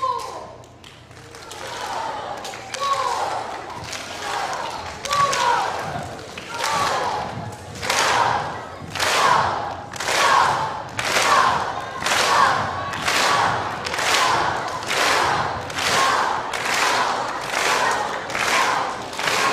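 A large school crowd chants in unison with rhythmic, evenly spaced shouts and heavy stomps or claps, swelling loud and regular over nearly twenty seconds in an echoing gym.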